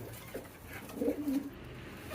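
Pigeons coo softly in a low, rumbling burst near the middle, with a steady low hum behind them.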